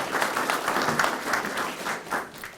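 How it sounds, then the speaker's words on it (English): Audience applause at a Gaston County NC Works special announcement, steady clapping from a crowd filling the whole moment, fairly close, with a few louder swells and no talk over it. "can we give them a round of applause for guiding us through this process?"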